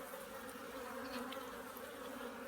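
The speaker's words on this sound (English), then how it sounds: "See some of the bees with the heads down in the cells." Honeybees buzzing steadily around an open hive during a gentle inspection of a colony of about 5,000 bees, with a continuous close drone and no talk.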